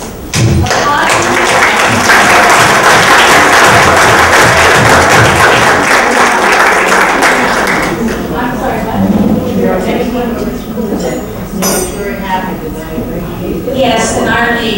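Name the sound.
audience applause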